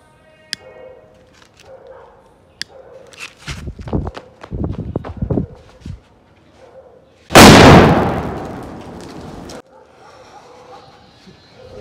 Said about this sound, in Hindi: गाइस धमाके से कान सुन पड़ गए, सही तेज फट गया।